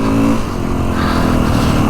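A Kawasaki KX450X dirt bike engine revs loudly nearby, with a short rise in pitch and then a steady, rough running tone through the whole stretch.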